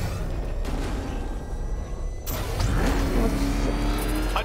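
The Batmobile in Batman: Arkham Knight drives with a steady engine drone, then revs up sharply partway through into a louder, rising roar; no speech.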